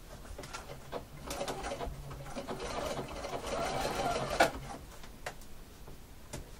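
Embroidery sewing machine stitching fabric with piping, a steady mechanical whir with faint ticking running throughout, close and moderately loud, with a brief sharp click near the end.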